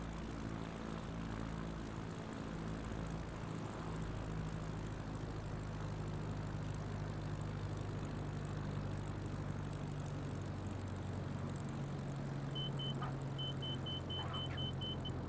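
A small bush plane lands in a flight simulator game on a trip over Finland, its propeller engine droning steadily at low power throughout with a faint high beeping tone near the end.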